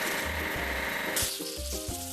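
A hissing water spray washes foam off an excavator in a kids' video game, a steady gushing wash over a light tune that cuts to short bursts partway through.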